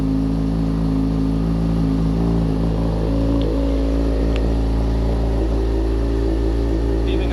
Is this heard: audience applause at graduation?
no